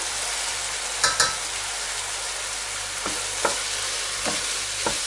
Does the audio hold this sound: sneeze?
no